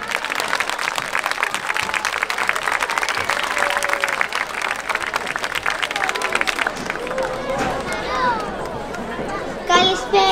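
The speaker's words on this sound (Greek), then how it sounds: "Πιο θερμό χειροκρότημα." An audience at a school folk dance performance in an outdoor setting breaks into sustained clapping. Crowd chatter rises as the applause fades, and a voice speaks near the end.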